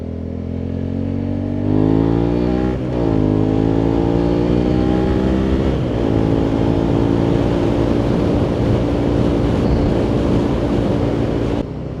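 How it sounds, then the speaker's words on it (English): A Suzuki SV650 motorcycle engine runs loud and close as the rider accelerates, its pitch climbing through the gears with a brief dip at a shift, then settling into a steady strong drone. "this bike definitely pulls a little bit quicker than it did before"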